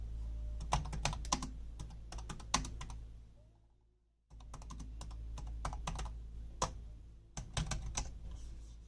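Fingers type on a keyboard with semi-tactile keys in quick, close bursts of soft clicks, pausing briefly midway into near silence before the rhythmic tapping resumes.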